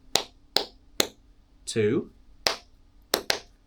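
Sharp hand claps tapping out a rhythm for a Grade 2 aural exam practice, six crisp close claps in an uneven pattern, with a short spoken word breaking in midway.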